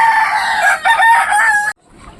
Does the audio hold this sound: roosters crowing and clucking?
yes